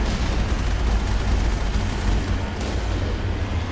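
Heavy booming gunfire and blasts from Mass Effect rumble continuously, loud low-end thuds and bursts packed closely together with no clear pauses.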